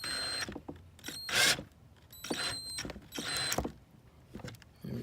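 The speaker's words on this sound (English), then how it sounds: "I just wanted you all to see the last screw I'm putting in." A screw driven into the door handle of a 2013 BMW 328i, heard as several close, grinding, whirring bursts of a driver with short pauses between them, no talking.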